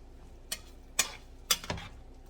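A spoon stirs food in a cooking pot, giving four faint, sharp clinks about half a second apart against a quiet background.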